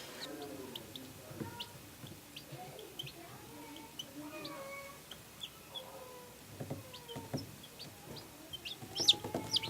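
Baby chicks on their first day in a brooder give soft, scattered cheeps and peeps, with a few bursts growing busier toward the end, while people talk nearby.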